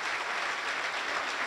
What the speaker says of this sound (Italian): facciamo un applauso perché hanno vinto giusto qualcosina